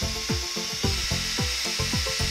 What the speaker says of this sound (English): Pre-drill holes in the top of the three-sided frame and firmly screw down.